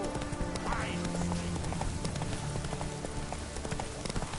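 Hooves of a horse clip-clop steadily in The Witcher 3, an even trotting rhythm set against game music and ambient sound, with a brief bird-like quack partway through.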